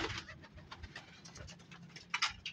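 Desi kalsari pigeons coo faintly in a loft, low murmuring calls with a few sharper rustles and flutters toward the end, distant and quiet.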